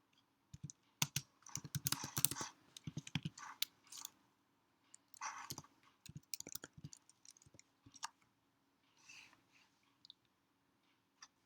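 Typing on a computer keyboard while entering a terminal install command: irregular bursts of close, crisp key clicks with pauses between them, then a few isolated final presses, with no talking.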